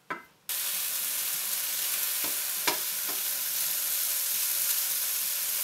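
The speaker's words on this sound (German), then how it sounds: "der Speck, der brutzelt schon ordentlich, ist aber noch nicht kross genug" Bacon frying in a pot as the base for a homemade carrot stew, giving a steady broadband sizzle with a few sharper pops and crackles throughout, close and fairly loud after a brief quieter start.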